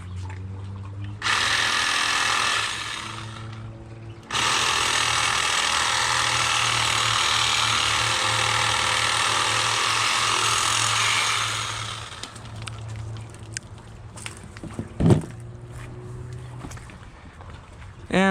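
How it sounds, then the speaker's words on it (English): A hand saw cuts through a fairly large tree branch during pruning, giving steady, loud rasping for several seconds, a brief pause, then a longer stretch of cutting. It trails off into quieter rustling with a sharp crack near the end. "So what I'm going to use is the saw, and you'll see how easy it is."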